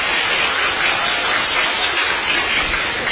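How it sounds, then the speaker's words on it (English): Dense, steady crowd applause at a youth gathering with Nick Vujicic, filling the space evenly and loudly for about three seconds with no break. "give yourself a round of applause,"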